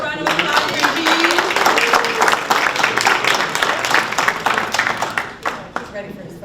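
Sustained, dense applause from an audience at a graduation ceremony, loud and steady throughout before tapering slightly in the final second.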